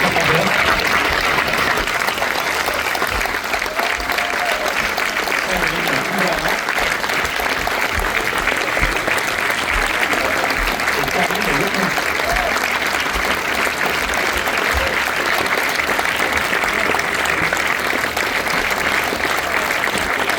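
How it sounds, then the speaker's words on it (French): A cinema audience at a Paris film premiere applauds the arriving director, with dense, sustained clapping from a large crowd that stays loud and even throughout, along with faint voices mixed in. "Je vous demande d'accueillir sous vos applaudissements le réalisateur Quentin Dupieux"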